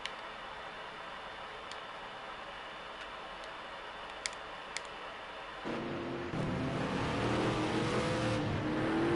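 A race car engine in the video game Project Cars 2, GT4 championship at Fuji, starting as a faint hum with scattered ticks, then rising into a steadily louder, growing engine drone.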